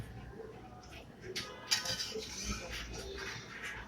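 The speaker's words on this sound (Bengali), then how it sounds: "এইভাবে নাড়তে থাকবেন খুব আস্তে আস্তে।" Slow, gentle stirring of suji (semolina) cooked with milk and a little water in a pot, giving soft, faint scraping clinks of a utensil against the pot at an unhurried, irregular pace.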